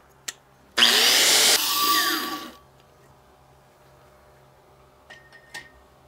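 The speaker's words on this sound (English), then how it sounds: "And clean up with the wire wheel real fast." A wire wheel scrubs a weld bead on 5-inch steel pipe welded in the 6G position. It makes one loud, harsh burst of about two seconds that tapers off, followed by near silence and a few small clinks.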